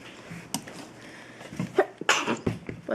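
A single sneeze indoors, fairly soft, rising out of a quiet room during a crafting session with small handling noises around it.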